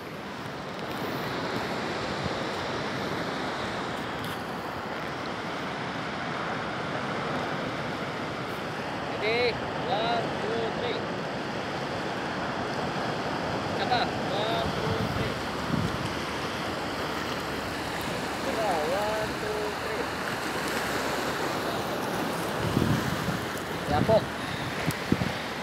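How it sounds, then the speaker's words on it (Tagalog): Sea waves washing onto the shore with steady wind buffeting the microphone, a continuous broad rushing roar with occasional faint bumps and no clear voices. "Ganyan dagat to."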